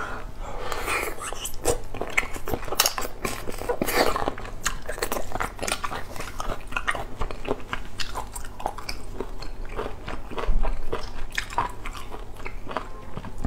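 Close, crisp crunching and chewing of spicy enoki mushrooms and squid sticky rice, steady wet bites and mastication continuing throughout with no talk.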